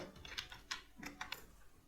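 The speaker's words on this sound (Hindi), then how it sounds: "तो यहाँ पर मैं अपना पासवर्ड जो भी मेरा है वो मैं एंटर कर देता हूँ" Faint, quick keystrokes tap on a computer keyboard while a password is typed in, about half a dozen soft clicks in an irregular run in a quiet room.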